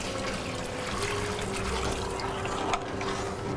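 Water runs steadily into a pot of Iranian bean stew, a continuous close pouring and trickling that stays even throughout, with one small clink near the end and no speech.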